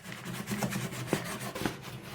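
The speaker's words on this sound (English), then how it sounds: "I've just been sanding the inside of the fretwork here to smooth it out, smooth the undercoat off" Close, steady rubbing and rasping as the inside of the wooden fretwork on a 1931 AWA Radiola radio cabinet is hand-sanded to smooth off undercoat, with a few sharper scrapes punctuating the continuous friction.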